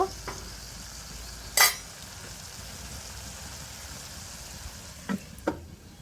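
Dried fish curry with tender taro stolons and homemade spice frying in a pan, a soft continuous sizzle with a few sharp scrapes and clatters of stirring, no voices.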